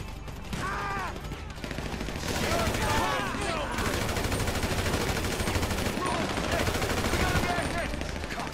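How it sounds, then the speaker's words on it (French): Video game gunfire in GTA V during a multiplayer heist, continuous automatic weapon bursts and rattling shots filling the scene, with voices chattering faintly over the shooting. "Et pourquoi vous ouvrez le feu aussi loin, les gars?"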